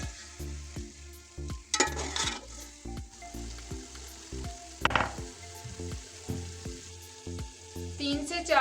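Marinated chicken sizzles in a pan with fried garlic and ginger, a steady close hiss broken by repeated rhythmic scrapes and clatters of stirring, with a couple of louder bursts.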